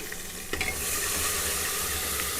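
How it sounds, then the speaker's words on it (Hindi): Ginger, garlic and green chili paste frying in a pan for Delhi-style chole, a steady close sizzle with a brief stir or clink near the start, no talking. "अब हम सबसे पहले इसमें डालेंगे 2 स्पून अदरक, लहसुन और हरी मिर्च की पेस्ट"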